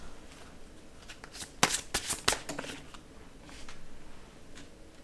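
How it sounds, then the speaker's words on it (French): A tarot card being drawn from the deck, a short cluster of crisp papery flicks and riffles midway through, close and fairly quiet, with no talking. "je vais tirer une dernière carte"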